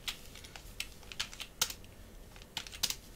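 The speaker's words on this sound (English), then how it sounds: "And if I were to type, for example," Rapid computer keyboard typing while entering code in Visual Studio for Unity: crisp, close clicks in uneven bursts with short pauses between keystroke clusters.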